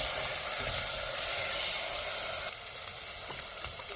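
Spices and salt being stirred in a sizzling pan for mutton curry, a steady loud frying hiss with faint scraping of the stirring, close and continuous with no talk.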